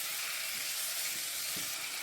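Onion and tomato stir-fry in oil with ginger and garlic in a clay casserole pot, giving a steady, even sizzling hiss with a few soft stirring scrapes underneath, close and fairly quiet.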